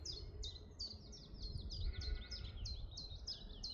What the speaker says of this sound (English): In fact, there's two chiff-chaffs.